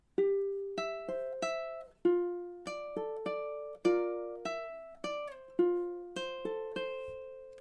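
Ukulele fingerpicking through measures 6 to 9 of a song, bright plucked notes rolling into sustained chords at an even pace, close-miked and solo without any talking.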